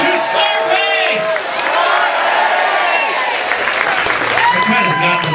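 Crowd at a cruise-ship farewell party cheering, whooping and applauding loudly and continuously, with shouted voices mixed in throughout.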